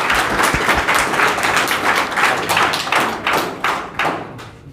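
An audience claps to welcome a guest onto a stage, a dense, steady patter of hands with individual claps standing out, fading slightly toward the end.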